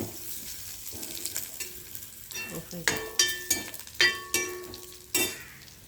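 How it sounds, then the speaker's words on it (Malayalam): Onions fry in a pan for a homestyle ivy gourd curry, a soft continuous sizzle under repeated bright metallic clanks of a spoon striking the pan as it is stirred. "അപ്പോൾ ഉള്ളി നമ്മുടെ വറുത്ത് കഴിഞ്ഞു"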